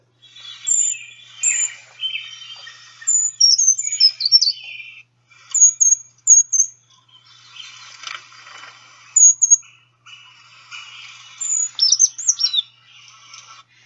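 A small bird sings a very high, thin song in short bursts of sharp, quick notes separated by pauses, clear and fairly close against a quiet background.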